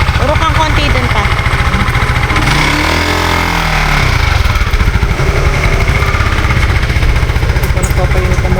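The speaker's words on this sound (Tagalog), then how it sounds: "Ito nagpapainit ang motor." A motorcycle engine idles loud and close as it warms up, a steady throbbing chug with a brief throttle swell midway, while people talk over it.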